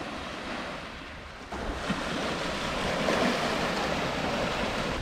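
Waves wash steadily onto Playa de las Torres beach in Villajoyosa, a continuous broad surf hiss with some wind noise on the microphone, getting a little louder partway through and with no voices.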